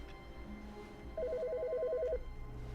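Trilling telephone ring inside the video game The Stanley Parable: Ultra Deluxe, one sustained warbling burst at moderate level over a steady ambient hum, no talk.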